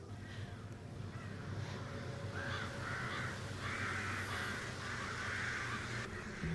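Crows cawing repeatedly at night in a deserted outdoor spot from a Doctor Who episode, several harsh calls rising over a steady low rumble of background noise, fairly distant but clear.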